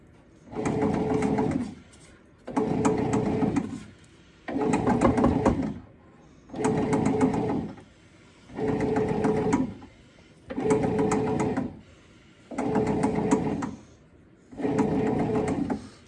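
Bread machine kneading a wet pizza dough, a loud motorized whir running in regular bursts of about a second with short pauses between, eight cycles in steady rhythm and no talking.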